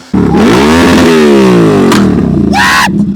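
A Yamaha R7 motorcycle engine revs loudly up close, climbing and falling in pitch through a couple of sharp throttle blips.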